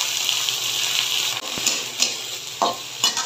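Potatoes stir and sizzle in a hot pan with garlic as a dried fish dish is cooked, a steady close frying hiss broken by several scraping strokes of a spatula toward the end.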